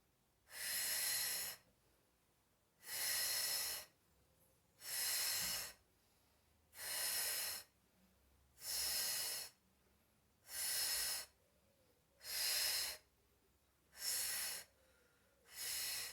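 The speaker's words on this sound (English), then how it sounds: "I'm going to blow again through that straw on the exhale." Regular forceful exhalations blown through a drinking straw during a postnatal pelvic floor and deep core exercise, about eight long breathy hisses evenly spaced every second or two, close and clear with quiet pauses between.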